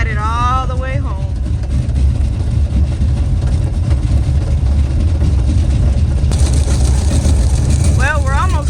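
A Chevy pickup truck with a blown-out tire rolls along at a steady low engine drone with road rumble, close and constant, with a short bit of talk at the start and end.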